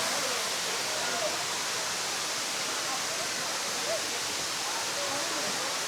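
A mountain waterfall in Hunan pours in a steady, even rush of white water, a dense unbroken roar that holds at the same level from start to finish with nothing standing out above it.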